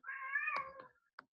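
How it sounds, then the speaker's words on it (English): A house cat meows once in a long drawn-out call lasting most of a second, followed by a short, sharp chirp a moment later, close and fairly quiet in an otherwise silent room. "sorry, that's my cat."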